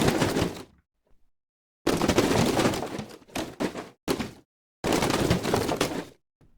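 A granular-synthesis debris effect made in Phaseplant for game audio: four separate bursts of crumbling, rattling rubble noise, each cut off abruptly by silence, the later ones choppier.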